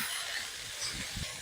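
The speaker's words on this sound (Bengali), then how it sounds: "পেঁয়াজ, কাঁচা লঙ্কা, ক্যাপসিকাম সব একসাথে ভালো করে ভেজে নেব" Onion, green chili and capsicum frying together in a pan for egg chowmein, a steady close hiss and sizzle holding level throughout with no talk.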